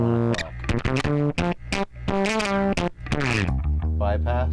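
A Radial Space Heater distortion pedal at full drive on its 140 volt setting colors an electric guitar with thick, saturated distortion as chords and single notes ring out loud and sustained.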